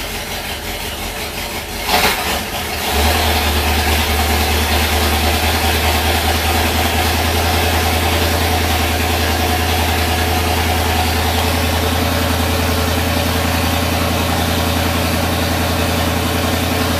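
A 1973 International Harvester Loadstar Blue Bird school bus engine idles steadily after a cold start in freezing weather, a low, even rumble held close and loud throughout, following a brief clunk near the start.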